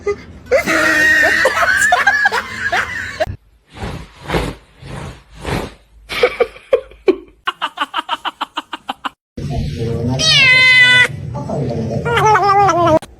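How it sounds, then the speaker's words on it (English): A cat stuck in a floor lets out strained, rising meows and whimpering cries, mixed with bursts of human laughter and excited talking nearby. "My cat fucking stuck in the fucking floor."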